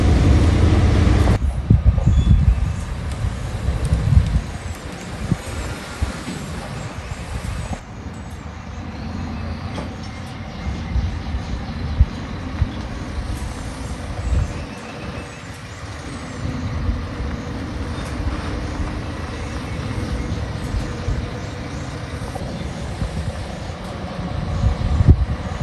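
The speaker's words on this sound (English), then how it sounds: "This truck gets stuck anywhere." Heavy delivery truck hauling a load of roof trusses, a steady loud diesel rumble with hisses and clanks of air brakes and rattling, continuous and close throughout.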